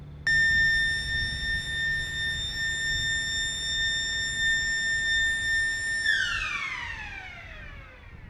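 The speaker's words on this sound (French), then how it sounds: "c'est une sirène stridente qui annonce le début de la représentation." A strident siren signals a dam water release, holding a loud, steady multi-tone wail for several seconds before the pitch sags and winds down into fading quiet.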